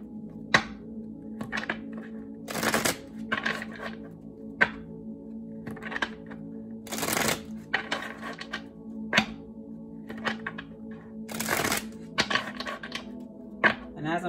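A deck of tarot cards being shuffled in repeated short riffling bursts with soft thumps and taps in between, close to the microphone and fairly quiet.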